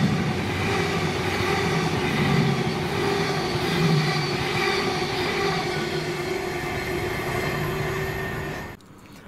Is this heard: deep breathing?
no